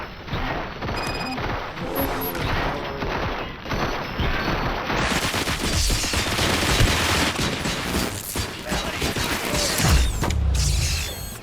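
Sustained automatic gunfire with metallic mechanical clatter and crashing impacts fills a Robocop: Rogue City firefight, loud and relentless without pause.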